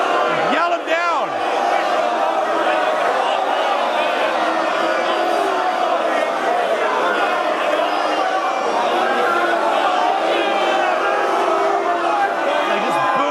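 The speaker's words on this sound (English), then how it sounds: "Like, just boo him the fuck down, dude." A large crowd loudly yells and boos someone down at a seminar, a dense, sustained roar of many voices with whoops and shouts that continues unbroken from start to finish.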